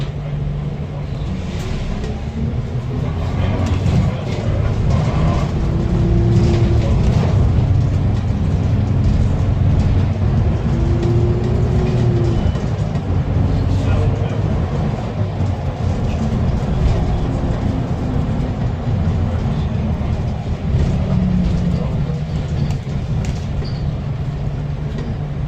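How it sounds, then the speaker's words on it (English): A hybrid London bus at the Stagecoach Hyde Road depot in Manchester switches to its diesel engine, producing a loud, continuous low rumble that holds steady for the whole stretch with a slowly shifting drone and no speech. "the bus will then kick in the diesel, and then you'll get kind of rumble sound."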